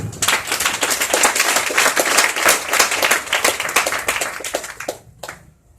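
A church congregation applauds after a scripture reading, a dense wash of many hands clapping steadily for about five seconds before trailing off into quiet.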